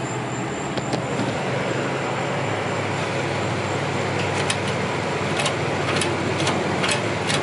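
A small engine on a 1960s mini riding mower runs with its governor bypassed by a coat-hanger linkage, a continuous, loud, even drone with a steady low hum and occasional sharp clicks and rattles on top.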